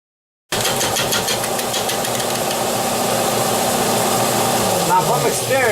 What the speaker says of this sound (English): I got the lathe set at 310